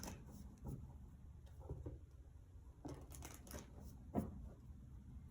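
A deck of tarot cards is shuffled in quiet bursts of soft riffling and tapping, close and faint, with one sharper knock partway through.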